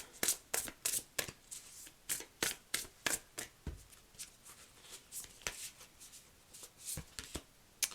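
Tarot cards shuffled by hand, a quick run of crisp riffling bursts in an irregular rhythm, close and fairly quiet, with no speech.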